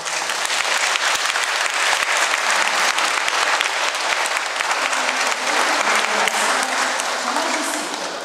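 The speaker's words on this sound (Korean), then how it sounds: "뜨거운 박수로 맞이해 주시고" Warm, sustained applause from a church seminar gathering welcomes a Catholic priest, a thick and continuous wash of clapping from a crowd lasting several seconds.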